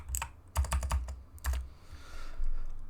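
Quick clusters of keystrokes on a computer keyboard, a few crisp taps in short bursts, close and clear, then trailing off into quiet background noise.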